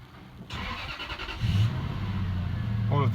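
A Lexus/Toyota car engine cranking and catching, rising to a steady idle close by, with a voice talking over it.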